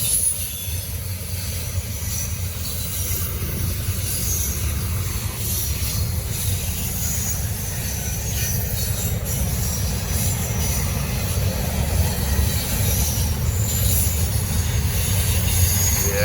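A long Norfolk Southern freight train rolls past close by with a continuous heavy rumble, while high metallic wheel squeal rings steadily above it for the whole stretch.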